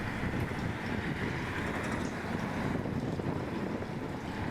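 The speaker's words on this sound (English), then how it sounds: "You can see it's a blasting headwind right up there." Strong headwind blasting across an open disc golf course, a loud, constant roar and rumble of wind buffeting the microphone, filling the whole stretch without letup.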